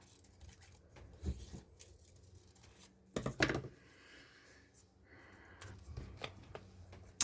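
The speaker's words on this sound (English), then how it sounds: "Cut that rather, not tear it." Scissors snipping through paper at a craft table, a few close, crisp cuts in short bursts with quiet pauses between them.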